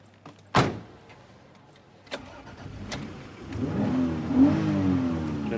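A car engine is started with a click and a quick crank, then idles and revs up in rising surges, with a door thud and clicks in between, heard close and fairly loud with no talking.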